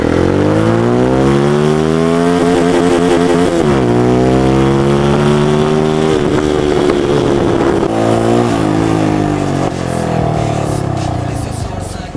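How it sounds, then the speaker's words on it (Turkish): A CFMoto NK150 motorcycle revs close by, its exhaust note rising and falling through several loud throttle blips over a steady, continuous engine drone. "Çok güzel egzoz sesi geliyor ya."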